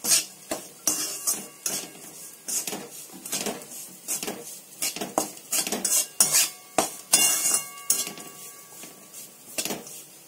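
Cashew pieces roasting in a pan for jaggery laddoos, with repeated metallic scraping and clinking of a utensil stirring against the pan, steady and close with no talking.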